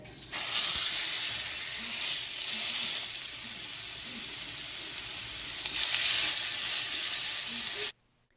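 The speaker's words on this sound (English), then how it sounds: "I'm going to add my steak." Steak sizzling loudly in a hot, oiled skillet: a steady, dense frying hiss that swells when the meat goes in and again midway, continuing nearly uninterrupted before cutting off abruptly, with no talking.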